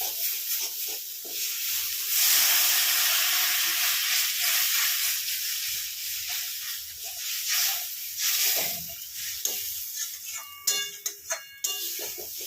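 Water poured into cooked-down chicken masala in a pan for a pomfret curry sets off a loud, steady sizzle and steamy hiss, with crackling bursts and spits rising near the end.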